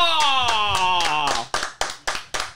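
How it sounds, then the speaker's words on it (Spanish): Applause from a live audience at an entertainment show, first mixed with a held sung or shouted tone, then breaking into loud, separate bursts of clapping that rise and drop off at regular intervals. "¡Aplauso!"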